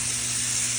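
A steak, just flipped onto the hot side of a pan, sizzles loudly and steadily in a continuous close hiss of searing fat, with no talking.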